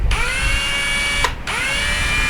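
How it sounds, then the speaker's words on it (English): A power drill spins a bolt clamped in its chuck, a steady close whine that cuts out briefly near the end and then starts up again. "now I've got a bolt and I could throw in the chuck of my drill"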